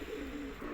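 Pigeon cooing softly and continuously, a low muffled purring drone at close range, faint and unaccompanied by speech.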